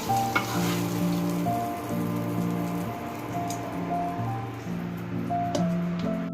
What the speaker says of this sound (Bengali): তো চলো এখন পটলটা আগে ভাজি।